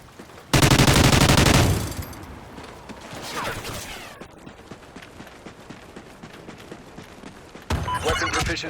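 Loud, dense burst of explosive-ammo gunfire in a video game, a sharp roaring blast up front followed by quieter crackling and scattered impacts, with another loud burst near the end.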